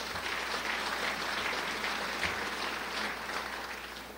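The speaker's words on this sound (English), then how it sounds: "Give them a round of applause" A round of applause from the audience at a Crown Point State of the City event, broad and even, somewhat distant and fairly soft, sustained without pause.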